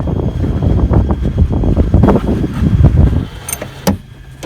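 Wind at sea aboard a zero-emission solar boat, gusty buffeting rumble across the microphone in uneven pulses, close and fairly loud, with a couple of sharp knocks near the end.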